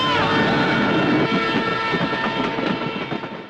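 A train roars past at night in a Tamil-dubbed action thriller, a loud dense rumble with rattling wheel clatter and a horn tone that slowly fades as it moves away.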